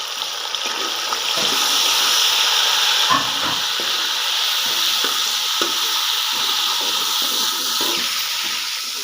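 Red tomato goes into a pan of golden fried onions, producing a loud, steady close-up sizzle and hiss with scattered stirring clatter throughout.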